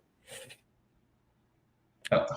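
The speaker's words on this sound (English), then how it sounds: "after that sneeze, we can move along to the next fight" A short, sharp sneeze-like burst, followed by quiet and then a louder abrupt vocal outburst up close.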